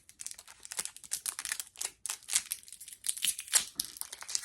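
A foreign Skittles candy packet is ripped open: crinkly plastic wrapper rustling and tearing in irregular bursts, close and moderately loud, with no talking.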